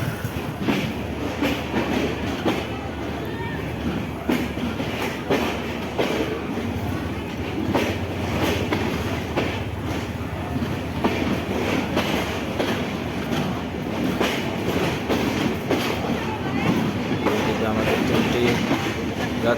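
An express train rumbles steadily nearby while crossing a railway station, with continuous wheel and carriage noise and faint voices mixed into the din.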